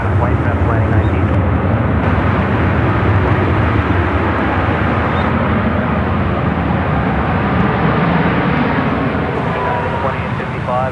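Jet airliner engines roar steadily and loudly through a takeoff roll at San Francisco airport, a continuous broadband rumble that holds for the whole stretch with little change in level.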